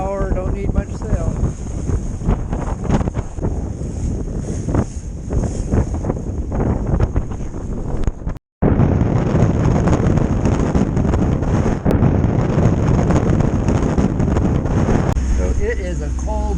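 Strong wind roars and buffets the microphone aboard a sailboat during an ocean race, a loud continuous rushing noise with a brief dropout midway and a voice talking partly under it.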